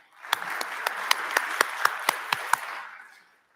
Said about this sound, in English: an applause to the speakers and to yourself